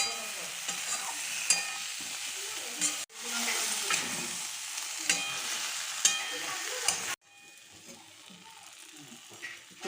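Vegetables sizzle in a pan for a Bengali rohu fish curry with yam, frying steadily with repeated scraping stirs of a spatula. The sizzle is cut off abruptly twice, and there is no speech.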